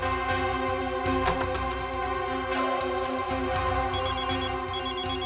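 A telephone rings in a drama scene at a bank branch, a steady electronic ringtone repeating over a continuous tonal background bed, with a brief chirping pattern near the end and no talk over it.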